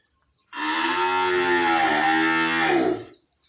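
A young breeding calf lets out a single long, loud, close moo lasting about two and a half seconds, heard alone against quiet surroundings.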